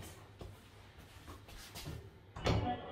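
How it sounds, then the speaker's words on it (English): A rustic wooden door on double action saloon hinges swings back and forth, giving a series of soft knocks and rustles before a louder thump and creak near the end, heard close in a quiet room. "It sports some lovely double action saloon type hinges, so it can swing both ways."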